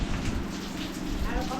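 Steady rain falls throughout, a continuous broadband hiss with a low rumble beneath, fairly close and even in level with no clear breaks.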